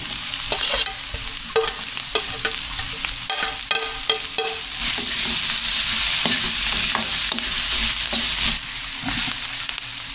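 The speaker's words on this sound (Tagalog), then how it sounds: "Tapos lagay na rin natin yung ating mga sibuyas." Onions sizzle loudly in a hot pan as they are stirred, with repeated scraping and clattering strokes over a bright, continuous frying hiss. The sound is close and has no talk over it.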